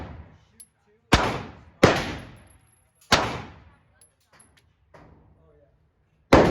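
Close pistol shots from a Glock 23 and a Glock 26 P80 at a shooting range: four loud sharp cracks with ringing decay, irregularly spaced, with another shot at the end and faint voices between.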